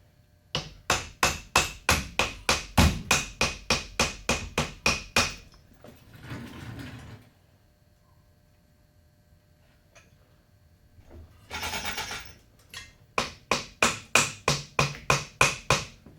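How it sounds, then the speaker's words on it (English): Light hammer taps seat a Warp 9 DC motor onto its coupling in two rapid bursts of sharp, evenly spaced knocks at close range, separated by a few seconds of quieter shuffling and handling noise. "Just light taps to get her in."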